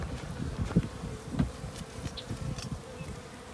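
Honey bees buzz steadily around a hive stacked with deep boxes on a dandelion day, a dense, close, continuous drone with individual bees passing near.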